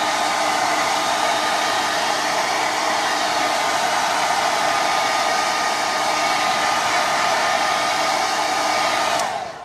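A hair dryer blows on a gold ink finish to set it, giving a loud, steady, close whoosh that runs unbroken for nearly ten seconds before cutting off at the end.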